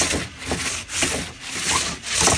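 A fiber plastic surface is sanded by hand in repeated rhythmic strokes, each a gritty rasping rub, about five back-and-forth passes heard up close with no talking.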